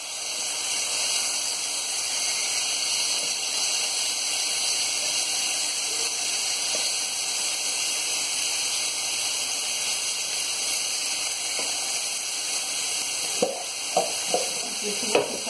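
Liver fillet frying in a pan gives a steady, moderately loud sizzle that runs throughout, with a few sharp clicks and stirring sounds near the end.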